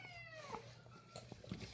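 Hungry cats meow in a yard, with a couple of rising, drawn-out cries close by, followed by scattered rustles and a louder clunk at the end.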